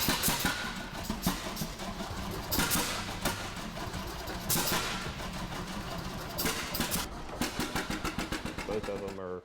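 An old tractor engine runs with a rough, uneven chugging, loud and close, with bursts of revving and a quick sputtering pulse near the end, while people talk over it.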